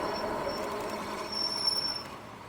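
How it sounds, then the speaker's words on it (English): A Jansno X50 e-bike on a hill climb gives off a steady high-pitched squeak over road and wind noise, continuous and fairly faint, growing sharper partway through. "Squeak's coming back."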